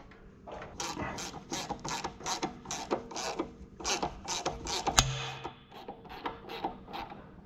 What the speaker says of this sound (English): That was just the ratchet hitting the dash piece.